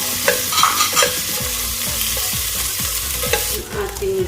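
Garlic sizzling in olive oil in a pan while being stirred for a light chicken curry, heard as a steady frying hiss under repeated scraping strokes of the utensil, close and continuous.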